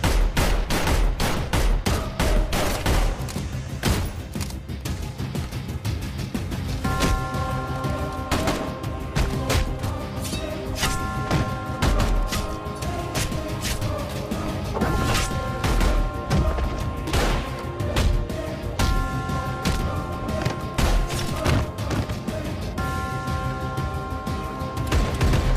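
Gunfire in an action movie scene, rapid volleys of loud shots and crashes over a dense music score, continuous and close.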